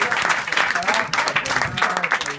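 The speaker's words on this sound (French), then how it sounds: "On peut les applaudir s'il vous plaît." An audience at a café comedy show applauds in steady, dense clapping that fills the room, close and loud, with some voices mixed in.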